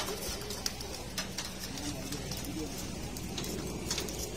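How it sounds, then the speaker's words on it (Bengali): A young male pigeon of a Bangladeshi racing loft breed coos softly amid a steady hiss of loft noise and scattered clicks, faint and continuous with no talking. "মাশাআল্লাহ বুড়াজাতের নর কবুতরের বাচ্চা"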